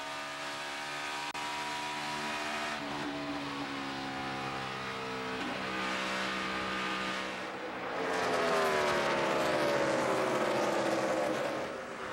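NASCAR stock cars racing at Kansas Speedway in the 2012 Hollywood Casino 400, a continuous loud roar of multiple engines with rising and falling pitch as cars pass, building louder near the end.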